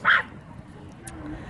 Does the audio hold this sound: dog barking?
yes